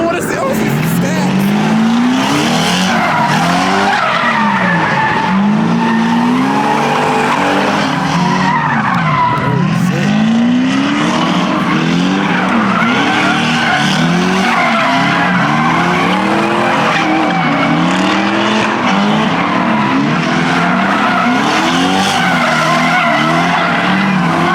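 A Mustang spins its tires at a hometown car meet in Virginia, the engine revving up and down in repeated swells under long screeching tire squeal, loud and close, while people talk and shout over it.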